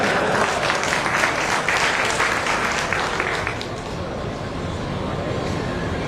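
A speech audience applauding, with a dense, loud burst of clapping that thins and fades toward a softer crowd murmur after a few seconds.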